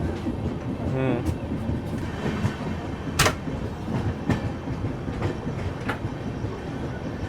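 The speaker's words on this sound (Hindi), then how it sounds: "गाड़ी अपनी अभी अच्छी खासी रफ्तार में चल रही है" The Sealdah Rajdhani Express running at high speed near Gomoh, heard from inside a 2AC coach as a steady rumbling roar with repeated sharp clickety-clack wheel beats over rail joints.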